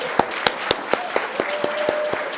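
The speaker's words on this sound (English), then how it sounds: "May I ask for a bit of applause for these large group of people" Applause at a congregation's annual meeting, a small group clapping in a slow, regular rhythm of about nine distinct claps, close and fairly loud, with a faint tone lingering underneath.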